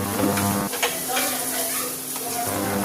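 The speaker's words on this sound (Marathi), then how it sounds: "वाटलेली डाळ टाकली आता परतून घेतो" Ground lentils with turmeric being sautéed in a pan for modak filling: a steady close sizzle with soft stirring scrapes and a low hum that fades briefly, with no talking.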